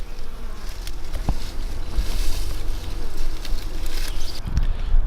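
A honey bee swarm being checked in a hive box gives off a loud, constant buzzing hum close at hand, a thick insect drone that holds unbroken with no one speaking.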